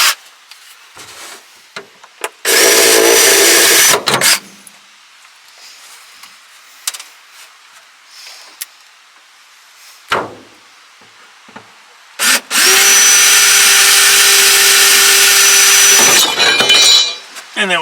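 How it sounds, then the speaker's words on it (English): Power drill drilling out pop rivets on a battery mounting bar inside a Brinkley G3500 RV, in two loud sustained bursts of whining grind separated by quieter handling noises. "it's held in with pop rivets, so we have to drill them out."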